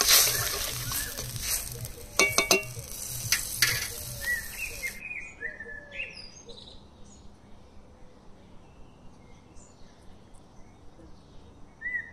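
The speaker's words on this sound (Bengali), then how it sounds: "তরকারির ঝোল ফুটে উঠেছে।" Curry gravy for bagda prawn curry bubbling in a pan gives a soft, crackly simmer with small pops for about five seconds, then quiets while birds chirp faintly nearby.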